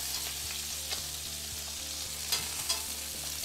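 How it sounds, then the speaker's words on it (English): Bacon strips crackle and sputter in a cast iron skillet, a steady close sizzle with a faint low hum beneath and a couple of brief sharper pops, no voices. "let's just flip the bacon"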